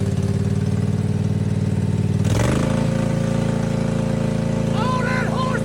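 Zero-turn lawnmower rigged as a bulldozer, its engine running loud and steady throughout, with a sharp change in pitch partway as it revs, then a sustained drone.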